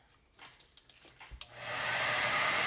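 A hair dryer blows steadily on small craft pom-poms, its broad whoosh switching on partway through and holding loud and continuous after a few faint handling knocks.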